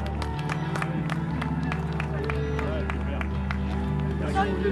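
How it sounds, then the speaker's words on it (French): Spectators at a mountain trail race in the Vosges applaud runners crossing the finish line, a steady patter of clapping over crowd chatter, with a voice talking through it. "On peut les applaudir, ils viennent de franchir la ligne"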